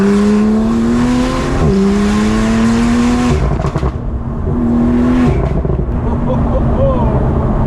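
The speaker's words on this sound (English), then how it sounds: "We're active in the Porsche 911 Turbo S. Listen." A Porsche 911 Turbo S engine revs and roars up and down close by, with tires squealing briefly, a voice speaking over it.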